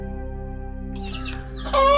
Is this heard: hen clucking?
yes